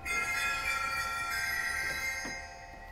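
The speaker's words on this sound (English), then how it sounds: "Tune sleigh bells, which is always nice." Tuned sleigh bells stop on a pipe organ sound a sustained, bright jingling shimmer that holds steadily and then tapers off near the end, fairly soft and without voices.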